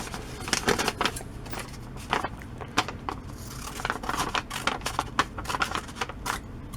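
Scissors snipping through material in quick repeated crisp cuts, close and fairly steady.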